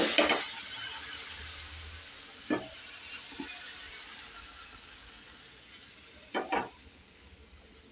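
Oil sizzles steadily on a hot pan while wheat-flour dosa is being made, with a broad continuous hiss and a few short, sharper crackles and spatters breaking through; no one speaks.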